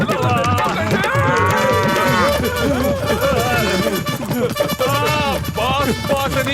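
A cartoon bull moos loudly and repeatedly in a drawn-out, wavering bellow, with animated voices and background sound around it.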